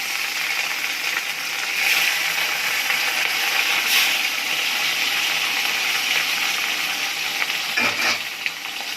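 Katla fish belly pieces fry in hot oil with a continuous, close, hissing sizzle. A few louder crackles and pops rise out of the steady frying.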